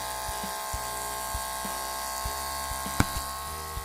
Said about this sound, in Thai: ปั๊มน้ำครับ